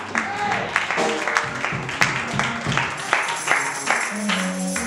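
A church congregation claps their hands in a steady rhythmic beat, loud and close, while a preacher's voice carries over the clapping.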